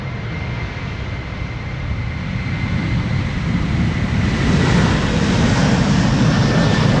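A Delta Airlines Airbus A350 bound for Atlanta departs from Amsterdam Schiphol Airport. Its jet engine roar is loud and broad and swells steadily over several seconds, with no voices over it.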